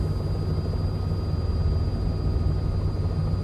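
Robinson R66 helicopter landing in a flight simulator game, a steady dense engine and rotor drone holding at constant loudness throughout with no voices.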